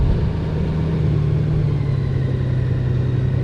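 A Honda Goldwing motorcycle rides through a bridge on a quiet Pennsylvania road in Amish country, its engine a steady, loud low rumble mixed with wind noise and no voices.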